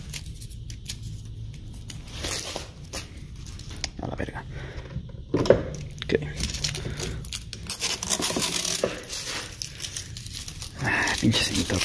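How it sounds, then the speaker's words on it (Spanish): Cheap adhesive tape is pulled and torn while a homemade nose panel vent is fitted to a Nissan 300ZX Z32 in freezing weather, crinkly ripping bursts mixed with someone talking throughout. "se rompe también la puta cinta de mierda"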